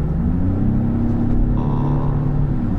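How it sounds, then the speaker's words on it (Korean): A Genesis GV80 Black SUV accelerating from inside the cabin, a steady low engine rumble and road drone rising slightly, continuous and moderately loud with no talking. "또 이렇게 가속을 밟았을 때"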